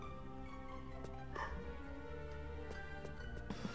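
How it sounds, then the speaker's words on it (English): A dog gives one or two brief, faint barks in the background of a quiet indoor room, over a steady low electrical hum. "I apologize if there are barking dogs."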